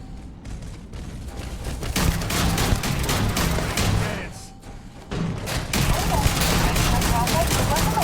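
Rapid gunfire from a weak-sounding gun in the video game Starfield, dense bursts of shots with thumps and booms during a firefight while security is on alert, loud and nearly continuous with a brief lull midway.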